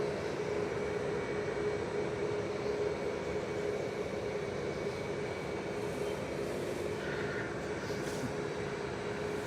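EasyJet airliner engines starting up at Manchester Airport, a steady broad roar with a faint whining tone holding throughout, continuous and moderately distant with no talk.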